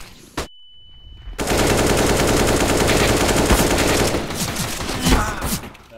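Rapid automatic gunfire from an online shooter video game rattles loudly in a sustained burst after a single sharp shot, tapering into scattered shots and clatter.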